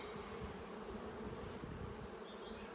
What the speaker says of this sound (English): There's bees up in here eating away because of the smoke.